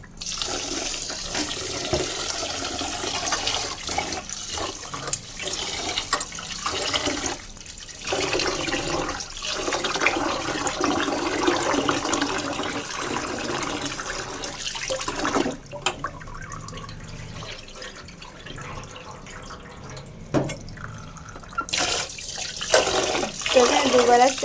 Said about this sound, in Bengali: এখন আমি চালটা সুন্দর করে ধুয়ে নেব।